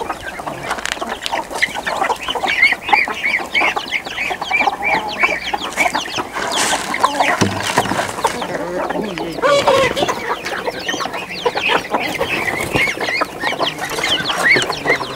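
Chickens clucking and squawking in a farmyard poultry pen alongside ducks, a busy, continuous chorus of close calls with occasional sharper cries and flapping.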